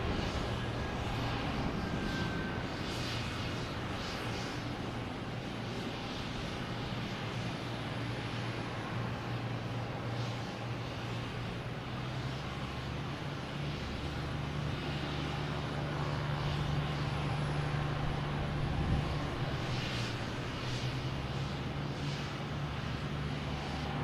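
A Lufthansa airplane at Boston Logan Airport produces a steady, distant jet engine roar with a broadband rumble that holds evenly for over twenty seconds.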